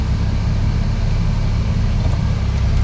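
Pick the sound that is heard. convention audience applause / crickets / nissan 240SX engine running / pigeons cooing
nissan 240SX engine running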